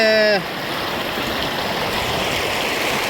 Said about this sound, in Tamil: இதனால தண்ணி வேஸ்ட்டாக கீழே தான் போயிருக்குது